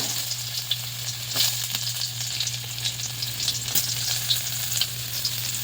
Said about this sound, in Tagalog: Una nating igisa mga idol, mga kapobre, ating luya